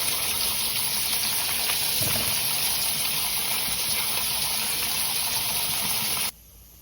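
Running water gushes steadily and loud over pumpkin seeds being rinsed in a kitchen, a continuous broadband rush that cuts off abruptly near the end.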